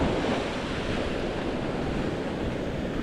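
Ocean waves break on the beach at Playa del Carmen, a loud, continuous wash of surf mixed with gusting wind against the microphone, and no voices are heard.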